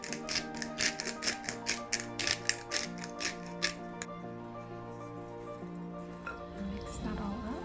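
Tuna salad being mixed in a bowl with garlic, onion, black pepper and sea salt: a run of quick, irregular clicking and scraping strokes for about four seconds, then a quieter tail with faint background hum.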